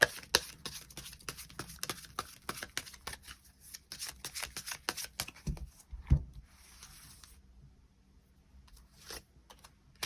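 Tarot cards being shuffled close up and quietly, with a long run of soft riffling flicks and taps that thin out into a few scattered slaps near the end.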